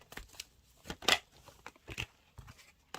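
Tarot cards are shuffled by hand at close range, giving a series of soft, irregular riffles and snaps over about three seconds with no one speaking.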